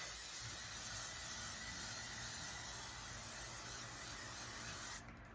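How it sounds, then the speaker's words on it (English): A steady, close hiss of L'Oreal Infallible setting spray misting onto a face continuously for about five seconds, then stopping abruptly. "I'm gonna spray my face first with the L'Oreal Infallible 3-second setting mist"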